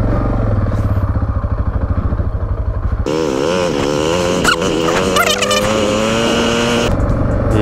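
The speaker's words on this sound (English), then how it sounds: "So much power in this bike." A loud adventure motorcycle engine pulls hard, its deep idle giving way to revving and rising roars with shifting pitch, close up and continuous with no talk.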